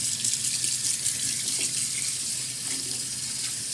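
Tap water runs steadily into a kitchen sink to rinse redfish fillets, a continuous close hiss and splash with no talking.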